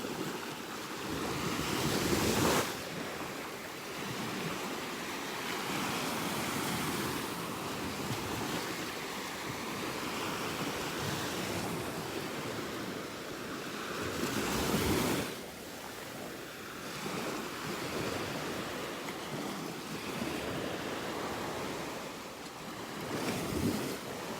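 Ocean waves breaking on a beach in North Naples, Florida, heard as continuous broadband surf with swells around every twelve seconds, mixed with wind noise on the microphone and no talk.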